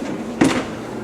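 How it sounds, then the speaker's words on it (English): An off-track kitchen drawer gives a single short knock and scrape as it shifts, one brief thud partway through against a quiet room background. "All these drawers in here are off track"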